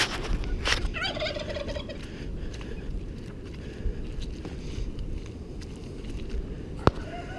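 Cockerels and other poultry in a muddy outdoor pen, with a short crowing burst near the start over steady rustling and scuffling, then a single sharp knock near the end.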